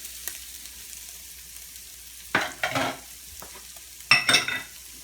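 Baked beans with added sugar and rub being stirred in a big pan, giving two short bursts of scraping and sizzling mid-clip and a louder one near the end over quiet background.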